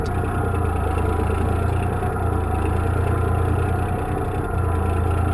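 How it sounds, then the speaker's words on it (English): Fully loaded logging truck's engine running steadily in a snowy forest, a loud, continuous low diesel rumble and drone with even vibration, no voices. "The fully loaded truck begins its journey, leaving deep tire tracks in the pristine snow."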